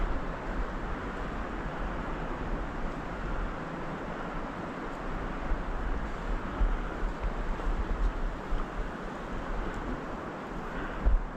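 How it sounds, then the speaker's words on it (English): Steady, blustery wind rushes across the microphone on a snowy woods hike, a continuous low roar with occasional stronger gusts and no voices. "Windy today."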